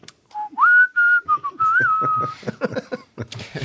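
Someone whistles a short, clear melodic tune close to the microphone, sustained pitched notes sliding between tones, then breaking into choppier, uneven sounds toward the end.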